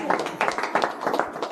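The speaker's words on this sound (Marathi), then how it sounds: "त्यांच्या सुनबाईंसाठी जरा एकदा जोरदार टाळ्या जाऊ दे" Rhythmic clapping from guests at a Marathi village celebration of a couple's 50th wedding anniversary, a short, loud burst of claps in even beats.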